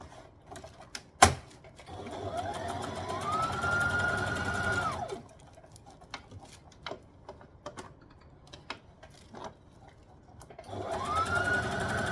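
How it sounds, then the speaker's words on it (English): A home sewing machine stitches a dress seam in two bursts of steady, rapid needle whirring, separated by quieter stretches of fabric handling and small clicks, with no voices. "make sure we're stitching that down and nothing else"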